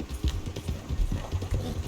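Hooves of a horse pulling a carriage clip-clop in a steady walking rhythm in Red Dead Redemption 2, fairly close and alone.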